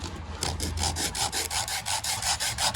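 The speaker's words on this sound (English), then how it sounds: "So all I'm gonna do is take my sanding block," Rhythmic back-and-forth strokes of a sanding block on the back of a wooden glazing bar, close and steady, about three strokes per second with a gritty, raspy texture.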